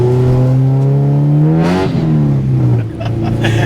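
A K-swapped Honda engine revs up and then drops in a rev match, a loud raw, raspy rising whine that swoops down and climbs again, close by with a brief rasp of gear change.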